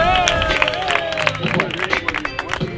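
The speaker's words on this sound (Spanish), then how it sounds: "aplaudir fuerte" Crowd at a rap battle semifinal in a regional qualifier in Murcia, applauding and cheering loudly, with shouts and voices mixed into the clapping throughout.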